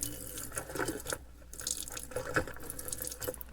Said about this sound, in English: I try to pour it in slow because you're just trying to put it in the trap.